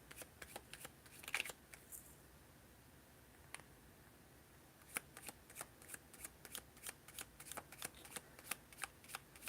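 Tarot cards are shuffled in soft, quiet bursts of riffling and flicking, with short pauses between them. The room is otherwise hushed.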